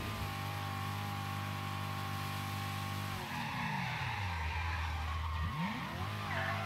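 A fast car in Mafia 3 roars along with a steady engine drone, then its tires squeal in a long skid as the pitch bends and the engine revs back up, loud and close.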